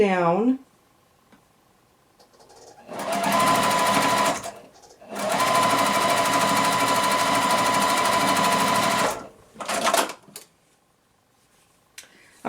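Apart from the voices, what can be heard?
sewing machine stitching quilt pieces together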